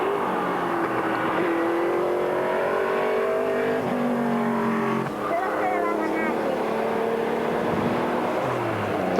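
Vintage race cars, including a Chevy Corvette, roar past at the Carrera Panamericana rally, with engines rising and falling in pitch as they accelerate. A commentator talks over the loud, continuous engine noise.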